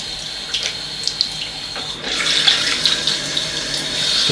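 Warm water runs steadily from a bathroom tap for washing the face, a close, continuous splashing hiss that grows fuller midway as hands break the stream.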